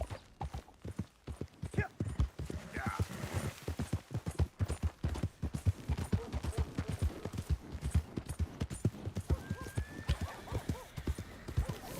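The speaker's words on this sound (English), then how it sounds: "Ah, mi caballo." Horse hooves clip-clop steadily in Red Dead Redemption 2, a quick, even rhythm of close, firm hoofbeats that runs throughout, with a brief neigh partway through.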